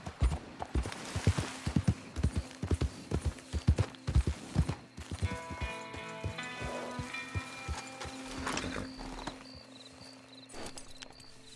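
Horse hooves clip-clopping in Red Dead Redemption 2, a quick rhythmic trot of close, distinct steps that slows and fades, with crickets chirping in the background and a brief voice calling to the horse.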